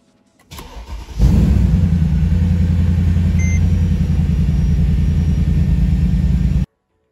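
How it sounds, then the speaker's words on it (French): Mercedes E500 W211 V8 engine cranking and catching, settling into a steady, loud, close idle rumble that runs on evenly until it cuts off abruptly. "Bon, on va pouvoir démarrer la voiture."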